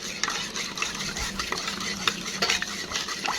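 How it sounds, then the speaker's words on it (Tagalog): A spoon stirring a baking soda and water mixture for a homemade spider mite spray, giving a continuous close swishing and scraping against the container with occasional light clinks. "Mix mo lang mabuti."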